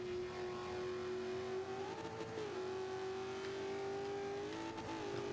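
A Ford Raptor in Forza 5 holds a steady, loud engine drone at full throttle, with small pitch wavers as it shifts load, running continuously with no talk over it.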